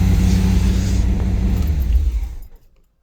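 Small-block 355 V8 in a 1984 Chevy Camaro with a Quadrajet carburetor idling at a steady low rumble close by, then cutting off abruptly after about two and a half seconds, leaving silence.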